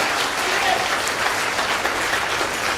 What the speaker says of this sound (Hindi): तो ऐसे शख्स के लिए मैं एक जोरदार तालियों से वेलकम कराना चाहूंगा मिस्टर सुनील सर के लिए।